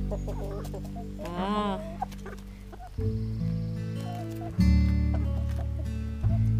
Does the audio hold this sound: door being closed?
no